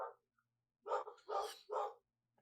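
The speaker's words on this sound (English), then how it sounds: "Is that your dog, Andy? No. That was mine." A dog barks three times in quick succession, fairly close and clear, with a faint short yelp just before and near-silence around the barks.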